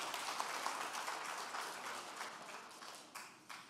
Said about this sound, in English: Round of applause for James, guys.